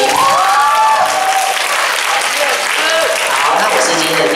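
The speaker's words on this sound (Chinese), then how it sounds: "给点掌声呗" Audience applause fills a magic night show at a university farewell performance, a steady dense clapping throughout with a voice speaking over it.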